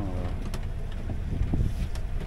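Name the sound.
sailing boat motoring toward Corsica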